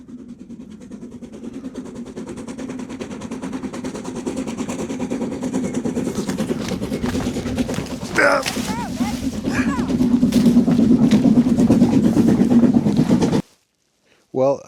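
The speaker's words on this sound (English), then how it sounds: "So there's the train is coming, you can see the steam" A steam locomotive labours through a wintry landscape, its heavy rapid chuffing building steadily louder with a mechanical rumble, a sharp whistle-like squeal midway, then cutting off abruptly near the end.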